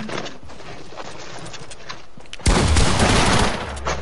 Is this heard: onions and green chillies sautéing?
no